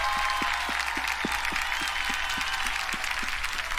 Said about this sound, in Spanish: Fuerte la bulla y las palmas para Stick.